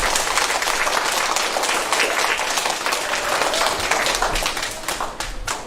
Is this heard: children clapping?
yes